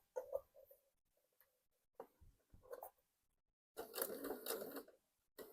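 A sewing machine stitches fabric with elastic thread in short bursts of rapid mechanical clatter, pausing between runs before a longer stretch of stitching near the end.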